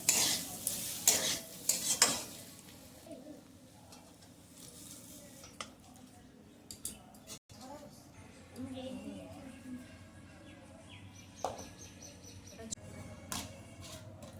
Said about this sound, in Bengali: শাকটা আমার রান্না করা হয়ে গেছে, যেরকম হয়ে যাচ্ছে শাকটা আমি নামিয়ে নিচ্ছি।